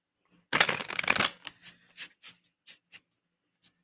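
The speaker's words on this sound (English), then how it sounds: "A bit of a shuffle." Tarot cards are given a quick riffle shuffle, a dense papery burst lasting under a second, followed by a few lighter, separate card snaps and taps that fade out in a quiet room.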